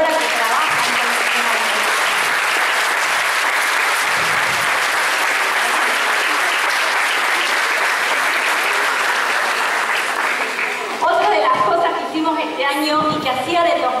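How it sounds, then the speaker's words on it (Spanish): Loud, sustained audience applause for the school cooperative at a night primary school's end-of-year event, a dense crowd clapping for about eleven seconds before a voice begins speaking as it fades. "quiero agradecer y que le den un fuerte aplauso a la cooperadora que trabaja"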